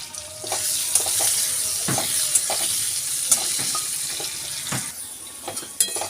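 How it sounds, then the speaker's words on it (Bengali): Potatoes frying in oil in a pan for a potato and eggplant hilsa curry, a close, steady sizzle with occasional louder crackles and stirring clatter, no talk. "আলুটা আগে ভালো করে ভেজে নেবো তারপরে বেগুনটা দেবো"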